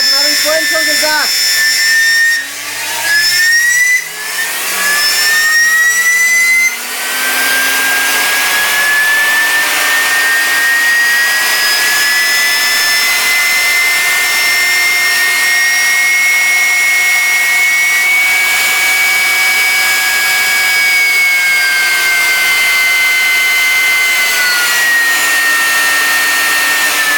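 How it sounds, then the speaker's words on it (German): Electric motor with a damaged bearing spinning up as voltage rises, a loud close whine climbing steadily in pitch and then holding a harsh, rough hum, with someone talking over it. "Und je weiter ich die Spannung nach oben fahre, desto mehr Drehzahl bekommt er. Ja, der hat einen Lagerschaden"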